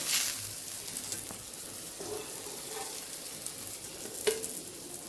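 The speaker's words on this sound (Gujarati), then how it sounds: "જે બાકી છે રીંગણ એને આપણે પાછા ફ્રાય થવા રાખી દઈશું આવી રીતે" Brinjal slices fry in oil on a tava for garlicky tava baingan, giving a faint, steady sizzle with occasional soft pops and light clicks, no voices.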